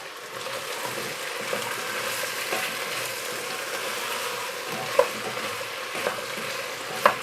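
Potatoes added to softened, translucent onions and stirred in a pot for a Portuguese fish stew, a soft continuous sizzle with a few sharp scraping knocks of a spoon near the end.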